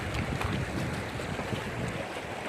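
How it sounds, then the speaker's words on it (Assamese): Water rushing from a waterfall just ahead, a steady broadband roar blended with gusty wind buffeting the microphone, constant and fairly loud throughout. "নিজৰা এটা ইয়াতে আগত আছে, পানী মাত শুনিছে"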